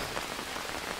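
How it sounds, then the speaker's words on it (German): Steady rain pours down in the survival game Green Hell, a dense, even hiss of drops pattering on surfaces, close and continuous with no voices. "in diesem Spiel ist der Regen Fluch und Segen zugleich"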